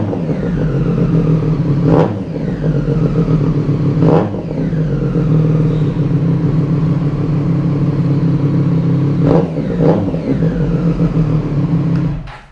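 Triumph Street Triple 765R motorcycle idling warm with an SC Project exhaust, a steady close, smooth low burble with a few brief blips around 2, 4, 9 and 10 seconds.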